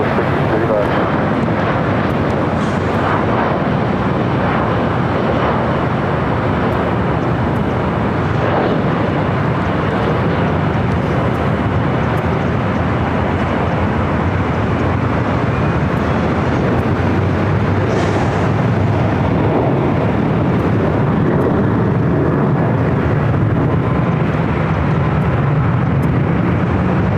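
An airliner lands on runway 24 right at LAX, producing a continuous, loud, broad roar that holds for nearly half a minute, with radio voices talking over it.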